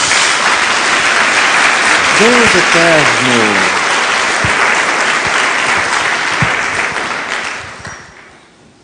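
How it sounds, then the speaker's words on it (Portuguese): Congregation in a church applauding loudly in a sustained roar of clapping, with a preacher's voice calling out briefly over it before the applause fades toward the end. "Dê uma salva de palmas a Jesus"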